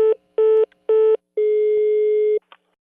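A telephone busy tone sounds after a prank call is hung up: three short beeps and then one long tone, loud and close, with nothing else underneath.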